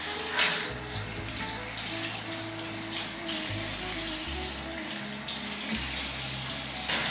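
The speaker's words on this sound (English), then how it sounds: "Let me wash this off in the sink." Water runs from a tap into a bathroom sink during hand or face washing, a continuous splashing stream heard close up with faint clinks and no talking.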